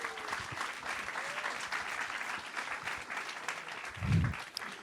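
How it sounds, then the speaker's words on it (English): Steady audience applause at a PechaKucha Night presentation event in Burlington, a dense, even patter of many hands from a crowd, with a brief low thump near the end. "big hand of applause to him"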